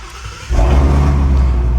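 A Shelby GT350 with a modified exhaust, engine already warm on a hot day, cranks and fires up after half a second, then settles into a loud, steady, deep rumbling idle.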